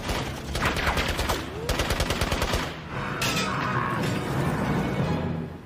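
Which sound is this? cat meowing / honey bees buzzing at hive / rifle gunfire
rifle gunfire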